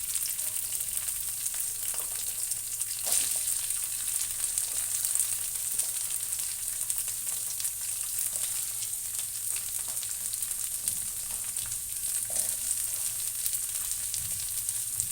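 Chopped onions, green chillies and curry leaves frying in hot oil for aloo kurma, giving a dense, even sizzle that holds steady and loud throughout with faint occasional stirring.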